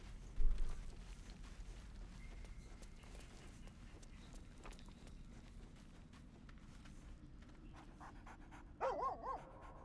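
A dog pants at a cave campsite in Baldur's Gate 3, a steady quick huffing rhythm at moderate distance under faint game ambience, with a brief louder burst near the end.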